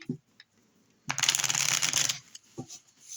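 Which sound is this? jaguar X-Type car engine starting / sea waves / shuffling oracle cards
shuffling oracle cards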